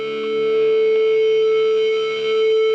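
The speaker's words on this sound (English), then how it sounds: "I started out with some feedback to start the track" Electric guitar feedback opens a heavy shoegaze track as a single sustained howling tone that swells and dips slightly, steady and fairly loud, heard alone.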